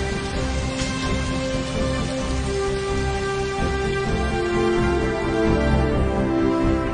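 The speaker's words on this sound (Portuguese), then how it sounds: "Chuva! Que bom!" Steady rain falling as a storybook sound effect, a continuous even wash of patter with faint tonal background underneath.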